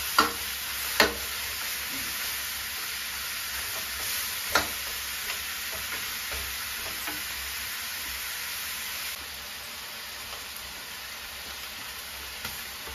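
Duck pieces stir-frying in a hot wok: a constant loud sizzle and hiss, with scattered sharp scrapes and clanks of a spatula against the metal, close by and with no talking.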